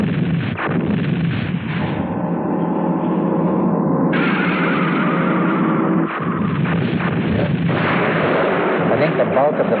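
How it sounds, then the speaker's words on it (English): Loud, dense explosions and bursts of gunfire from a battle scene in the Japanese sci-fi film Mighty Jack, rumbling booms overlapping continuously with no break. "Explosion!"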